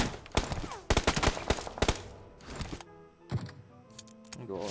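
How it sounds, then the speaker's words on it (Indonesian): Gunfire in the battle royale game PUBG: rapid bursts of sharp shots in quick succession, then scattered single cracks and a few later bursts, loud and close with faint talk at moments. "Aduh, dia nembak ke situ lagi."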